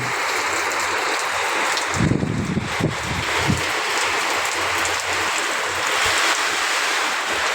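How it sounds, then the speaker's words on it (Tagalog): Strong wind roars steadily throughout, a dense broadband rush with a few low gusty thumps near the middle, close and loud. "lakasan ng hangin"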